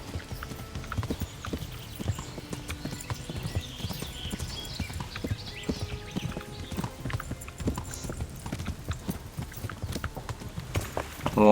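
Horse hooves gallop steadily in the Kingdom Come: Deliverance video game, a rapid, even clip-clop of hoofbeats that stays close and moderately loud for the whole stretch, with no talk over it.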